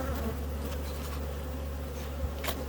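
Bees buzz around a hive in a steady, continuous drone that holds close and even for the whole stretch, with no voices.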